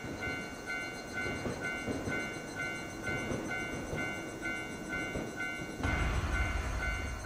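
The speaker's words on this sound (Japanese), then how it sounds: "このクソ田舎に電車走ってんか？" A train rolls past in a Japanese horror video game, a steady rumbling clatter with repeated rhythmic clicks of wheels on track, growing heavier near the end, with no voices.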